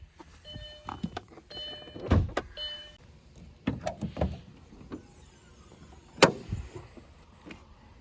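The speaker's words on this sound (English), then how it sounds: "Let's pop the hood" Opening the hood of a B5 Audi S4 produces a series of latch clicks, clunks and mechanical thuds, with a sharp metallic clack near the end, close and fairly quiet with no talking.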